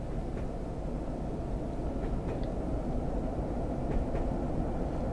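A Class 101 diesel multiple unit runs on the Radstock to Frome Market line in Train Sim 2021, a steady low engine and rail rumble that drones evenly throughout with faint higher clicks.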